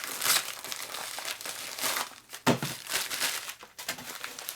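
Paper packing material crumpled and crinkled by hand while unpacking an eBay parcel holding a 1984 five-speed transmission case bearing, close rustling in uneven bursts with sharper crunches.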